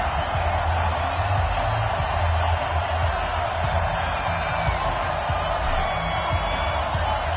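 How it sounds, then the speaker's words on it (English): A stadium crowd roars steadily in an EA Sports NFL game ahead of a matchup with the Indianapolis Colts, a dense, continuous wash of cheering and far-off noise under light commentary. "This crowd is ready as their guys get set to match up with the Indianapolis"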